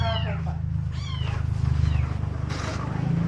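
Several high, wavering meows from a kitten at a vet clinic cut through a steady low hum, coming in short bursts over about three seconds.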